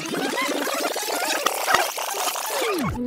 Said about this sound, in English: Can you pour me some water?